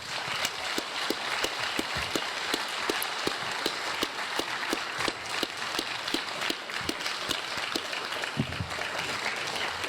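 An audience at a public safety forum gives the panel a final round of applause: dense, continuous clapping with sharp individual claps standing out, sustained evenly for about ten seconds without speech.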